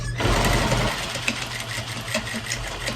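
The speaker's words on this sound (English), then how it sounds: "Now we're gonna sew down all the lines now." A sewing machine stitches lines across a potholder, giving a loud, close, steady mechanical whir that lasts the whole time, with a heavier motor hum near the start and end.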